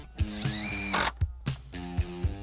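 A power drill driving fasteners through greenhouse wall top plates into a wooden gable, with a loud rising motor whine and short bursts and clicks, close and alone.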